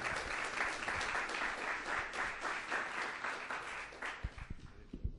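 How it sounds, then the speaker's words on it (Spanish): A crowd claps steadily for a few seconds, a dense even patter that trails off into a few scattered claps at the end. "Le damos un aplauso para darle la bienvenida y agradecerle."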